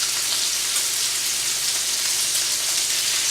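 Food sizzles loudly and steadily in a very hot pan, a dense, even crackle for a few seconds with no talking.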